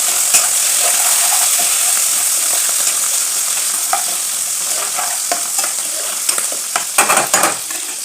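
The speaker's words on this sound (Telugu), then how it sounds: "మనం ఇప్పుడు ములక్కాయ ముక్కలు, టమాటా ముక్కలు, దోసకాయ ఇవన్నీ వేసుకున్నాము." Drumstick, tomato and cucumber pieces fry with onions in a pan, a loud continuous sizzle with scraping stirs and utensil clinks growing busier toward the end.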